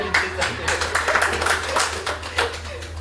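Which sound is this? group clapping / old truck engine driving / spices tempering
group clapping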